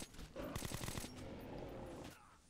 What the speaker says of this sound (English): Let's go around a pillar nonstop while this man tries to shoot us.